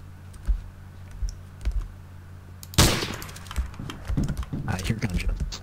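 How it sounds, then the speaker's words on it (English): Gunfire in the game iNFILTRATION 4, a burst of sharp cracks near the middle followed by scattered shots, heard over steady computer keyboard typing and clicking, with players talking in between. "I hear gunshots."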